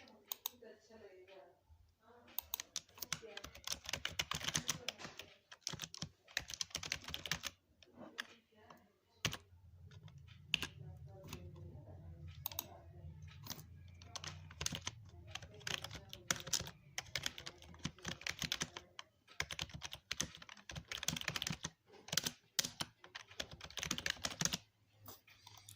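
Typing on a computer keyboard by someone learning touch typing, irregular bursts of close, crisp key clicks with pauses in between, and a low hum joining midway.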